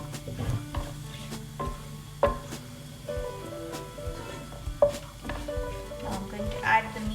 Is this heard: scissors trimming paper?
no